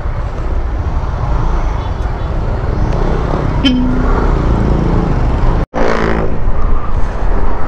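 Heavy road traffic in a holiday jam heading toward Twin Lakes, a constant loud roar of engines and road noise with a short horn toot midway and a brief cutout, with people talking over it.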